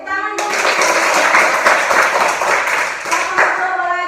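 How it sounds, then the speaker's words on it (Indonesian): A group of students claps together during a physical education lesson practising forward rolls on mats, a loud burst of brisk, slightly ragged hand claps with voices talking over it. "Oke, tepuk tangan dulu"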